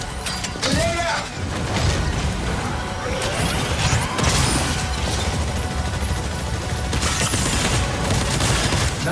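Battle in Exoprimal brings a grenade blast amid continuous gunfire, with loud dense crackling shots, metallic mechanical clanks and a heavy crash near the start, sustained and close.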